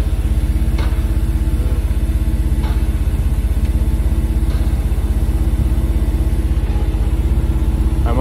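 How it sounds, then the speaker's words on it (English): Kalitta Air Boeing 747-400 jet engines running from about 100 feet away, a loud, steady roar with a low rumble that holds level throughout. "It's the oldest aircraft, but it's still good. It's still running."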